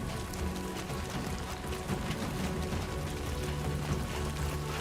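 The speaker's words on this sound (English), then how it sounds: "Great. Rain. Gotta move." Steady rain falling in the video game Death Stranding 2, a continuous even hiss of drops with no voices, moderately quiet and unbroken throughout.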